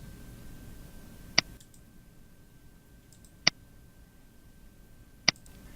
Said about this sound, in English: you'll select them by clicking the little checkboxes that appear just above the confidence meters